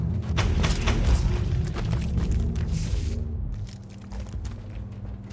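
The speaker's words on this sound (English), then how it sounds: "Yeah, warp explosion" A warp explosion rumbles in the Warhammer 40k Inquisitor Martyr video game, a loud, dense boom with crackling debris that holds for several seconds and then slowly thins out.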